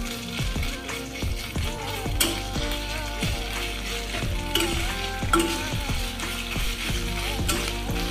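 Five-spice and whole cumin seeds frying in a pan while being stirred, a loud crackling sizzle with repeated scraping strokes of a spoon in a steady rhythm, close up and without speech.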